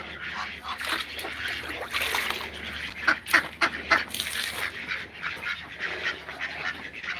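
Ducks quacking in a busy, continuous chorus of overlapping calls close by, with a few sharper, louder quacks in the middle and no talking.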